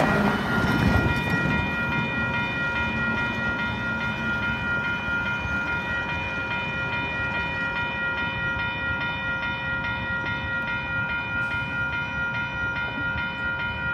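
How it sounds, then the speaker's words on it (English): A train rolls past a railroad crossing on N Beach Street in Haltom City, Texas, its loud rumble sustained alongside the crossing's steady ringing bell tones and a brief horn note, heard up close. "there's a train"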